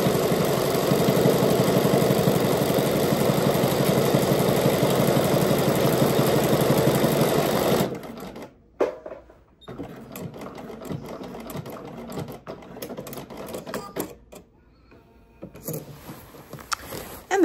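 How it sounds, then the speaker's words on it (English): A Bernina sewing machine stitches a buttonhole in a steady, continuous mechanical whir that runs for about eight seconds, then stops abruptly, leaving scattered soft handling clicks and light rustles close by. "This is the thing I love most about this Bernina, or Berninas in general, is that they just do such beautiful buttonholes"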